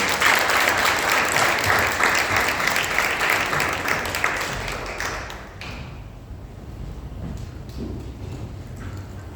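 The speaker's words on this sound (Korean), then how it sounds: "우리 축복의 박수로 맞이할까요?" A church congregation claps together in a dense burst of applause that gradually thins and fades out over several seconds, leaving scattered claps and a quieter room.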